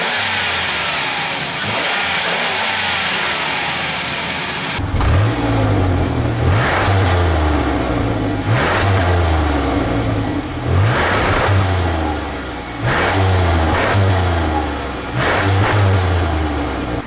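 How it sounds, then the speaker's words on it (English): A minivan's 3.8-liter V6 engine idles, then revs several times in quick bursts, each roar rising and falling back, loud and close. "when I rev it, it sounds better than my car being revved"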